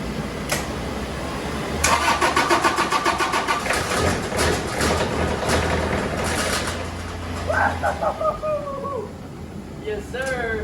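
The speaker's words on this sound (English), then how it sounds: "See if it cranks." An engine on a home-built welded machine cranks in a rapid pulsing series, catches, and settles into a running idle while a voice speaks near the end.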